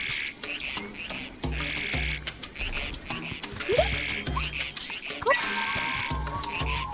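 Frogs croaking in the video game Zelda: Echoes of Wisdom, repeated rhythmic low croaks pulsing roughly every half second alongside game music chimes and short rising effects, with someone speaking German over them.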